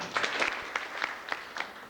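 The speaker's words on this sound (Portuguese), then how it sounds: "Gostaria, então, que todos registrassem essa satisfação de ter contado com a participação do Sérgio, suas ideias, aqui na Rádio Legendária, com a salva de palmas." Brief, light applause from a small group in a radio studio, a handful of separate claps over under two seconds, fairly close and modest in volume.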